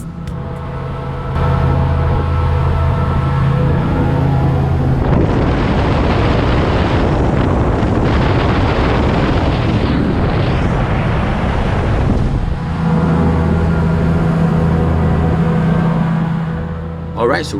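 A motorboat at the Miami Boat Show idles with a low engine hum, then roars up to full throttle amid heavy wind buffeting before settling back to a lower drone.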